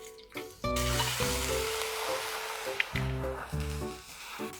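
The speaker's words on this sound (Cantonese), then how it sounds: "炸香嗰啲蒜先" Chopped garlic frying in oil in a wok gives a steady, hissing sizzle that begins abruptly and continues throughout, over a low tonal hum in the background.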